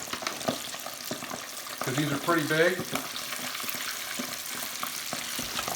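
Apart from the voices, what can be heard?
chicken wings frying and popping in hot oil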